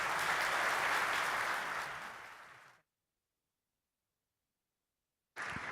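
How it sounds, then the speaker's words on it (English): An audience at an AI and fusion energy event claps for the panelists, a loud, dense burst of applause that fades out over about three seconds, then drops to silence before the clapping briefly returns. "please give them a round of applause"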